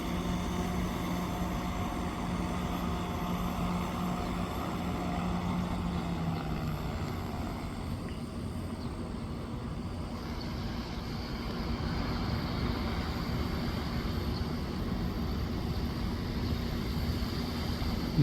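Agricultural drone spraying pesticide over farm fields, a steady loud propeller drone hum running throughout with a low tonal drone early on, continuous and unbroken.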